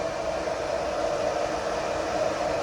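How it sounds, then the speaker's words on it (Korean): Hair dryer blowing warm air while styling a wig, a steady, even rush of air holding at constant strength throughout, close and loud, with no voices. "드라이기의 따뜻한 바람을 이용하고요"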